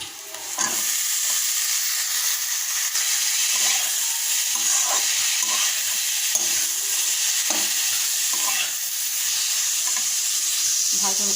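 Green beans and carrots sizzle steadily in a hot pan with turmeric, with repeated scraping and stirring sounds breaking through the continuous hiss at irregular intervals.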